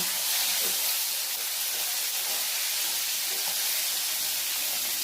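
Fish fries in hot oil with a dense, continuous hiss and sizzle, steady and close, with faint scattered pops and no voices.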